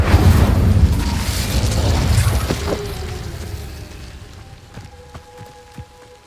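A fire spell cast in Hogwarts Legacy bursts out as a loud, roaring whoosh that rumbles for about two seconds, then fades into a thinning crackle with a few faint sparkling chimes at the tail.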